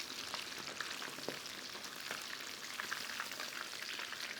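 Battered prawns frying in hot oil over high heat, a steady bright sizzle with scattered pops and crackles, continuous and close, with no talking.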